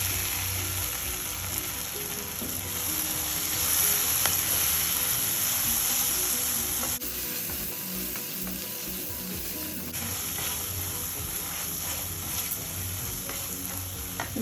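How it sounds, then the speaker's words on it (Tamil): Chili powder and coriander powder being sautéed in a pan for vada curry, a steady sizzle and crackle with repeated scraping stirs, continuous and close, with no voices. "இந்த மாதிரி கொஞ்ச நேரம் பச்சை வாசனை போகிற அளவுக்கு வதக்கணுங்க."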